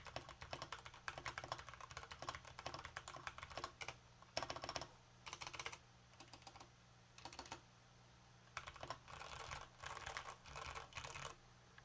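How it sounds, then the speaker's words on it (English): A Keychron K6 mechanical keyboard with Gateron red switches, some padding and lubed stabilizers clacks under steady typing, bursts of rapid keystrokes separated by short pauses, close and clear with a faint low hum beneath. "give you a bit of a keyboard sound test here. So this is the Keychron K6 with Gator on reds"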